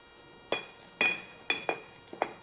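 Minced pork being pounded for a Vietnamese pork and squash soup, five sharp separate thuds at an uneven pace, each with a brief clinking ring, close up and with no talk.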